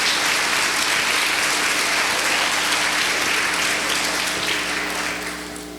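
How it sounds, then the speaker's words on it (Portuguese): A church congregation applauds during a sermon, loud sustained clapping from many hands forming a thick continuous roar that fades slightly at the end, with a low steady hum underneath. "Irmãos, pode aplaudir o Senhor Jesus Cristo por isso?"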